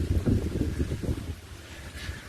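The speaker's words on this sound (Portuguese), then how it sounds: "Olha o vento." Wind blows hard across an outdoor microphone, a continuous low rumbling buffet with gusty surges that ease slightly toward the end, with no voices heard.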